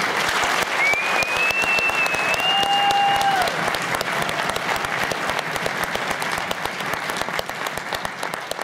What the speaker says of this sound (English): they deserve a nice big round of applause